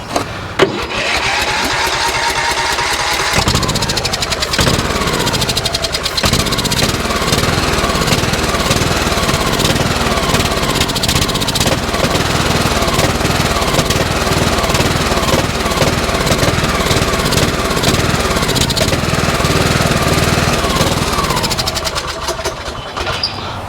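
A broken lawn tractor engine cranks over, catches and settles into a loud, steady chugging run close by, its rapid mechanical rhythm continuing for over twenty seconds before cutting off at the end.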